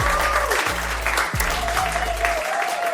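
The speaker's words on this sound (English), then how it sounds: "you get a light applause" Light applause, a steady patter of clapping throughout with low-pitched tones and a thin whistling line running beneath it, fairly close.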